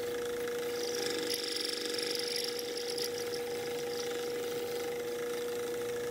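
A homemade filing machine works recycled plastic bottle caps, giving a steady, close mechanical whir with a constant tone and faint rattling, running unbroken throughout with no talk.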